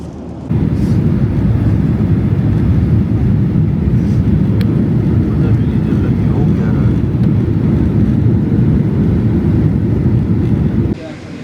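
Steady, loud cabin rumble of an airliner that has just landed in Sabah, Malaysia, a dense low roar holding evenly for about ten seconds before dropping away abruptly near the end.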